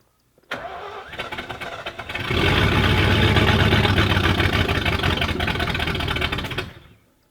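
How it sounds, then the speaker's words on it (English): A 1978 Ford F250 pickup, left abandoned for 30 years, cranks briefly and then catches, its engine roaring loud and close for several seconds before stalling out and falling silent. "It's gonna stall because it's got to pump the gas."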